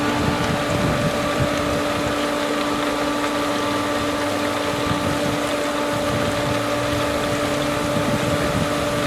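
Pool pump runs with a steady mechanical hum and tonal whine while air purges through the plumbing, giving a continuous churning, gurgling wash of water and bubbles underneath.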